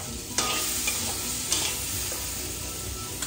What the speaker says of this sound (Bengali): ভাজতে ভাজতে লাল হয়ে গেছে